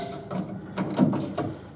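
A wrench works loose a stuck bolt on a 1951 Ford F-1 pickup during a leaf-spring lowering job, giving several short metallic ratcheting clicks and scrapes close by, with no voices.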